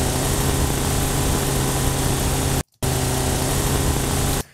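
A looped engine sound effect drones steadily at a constant pitch, cutting out for a split second midway before resuming, then stopping abruptly.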